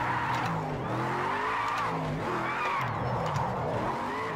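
A Ford Mustang RTR drifts in Project Cars 2, a clutch kick sending the engine into a loud, continuous rev with rising and falling pitch sweeps and tire squeal throughout.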